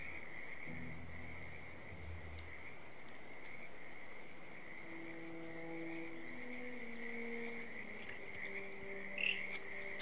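Frog croaking in the stealth video game Hitman 2, a run of low, rhythmic croaks layered over a steady insect-like drone and ambient game background, with no talking.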